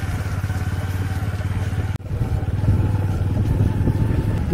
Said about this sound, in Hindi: इसलिए हम लोग बाइक से चल रहे हैं।